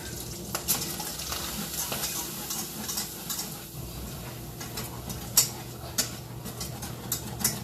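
Sauce being whisked in a bowl in a home kitchen, with soft continuous scraping and stirring and a few brighter clinks of the whisk against the bowl, fairly quiet and close.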